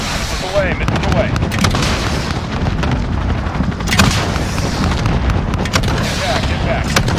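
Missile strikes and heavy explosions in a military video game, a dense, loud barrage of booms and gunfire-like blasts rolling continuously with radio chatter mixed in.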